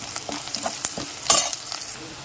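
Onions and curry leaves frying in a pan are stirred with a utensil, giving repeated scraping clatters over a continuous sizzle, with one louder scrape partway through.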